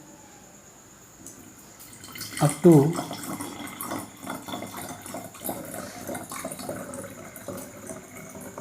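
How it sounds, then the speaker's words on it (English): Water pours into a round bottom flask in a laboratory setting, a brief glassy gurgle that settles into a soft, steady trickle. A voice speaks over the pouring. "Now I am taking a round bottom flask and water in it"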